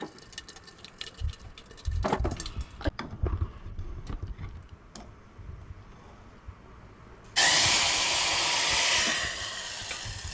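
Light clattering and tapping come first, then a hot tempering is poured into Goan-style dal and sets off a sudden, loud burst of sizzling that holds for a couple of seconds before easing off.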